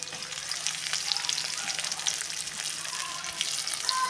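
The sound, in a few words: potato and cauliflower curry with tomato frying in oil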